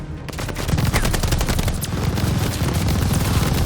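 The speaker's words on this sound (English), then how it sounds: "Press that MG! Fasten on the MG!" Dense, continuous machine gun fire in the World War II shooter Operation Tonga, loud and close, with overlapping bursts forming a sustained roar.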